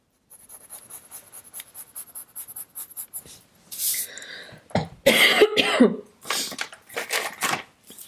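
A few short coughs and throat sounds close to the microphone, mixed with scratchy rubbing and faint scraping sounds.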